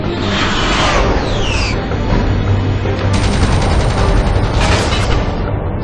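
Dense, sustained gunfire and explosive booms fill a combat scene from the Iron Man video game, a continuous loud barrage with overlapping rapid shots and no pauses.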